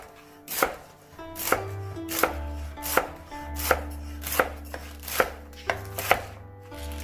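Regular, evenly spaced knife chops on a cutting board as leafy vegetables are cut during weekly veggie prep, about ten close, crisp strikes with a low hum underneath and no talking.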